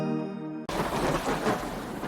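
A low rumble of thunder rolls through steady rain, loud and enveloping, following a brief sustained tone that cuts off abruptly.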